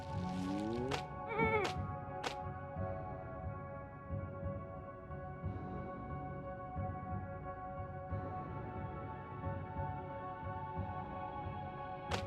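A sheep from the Phobies strategy video game bleats twice in quick, wavering cries near the start, over steady layered game music that continues alone.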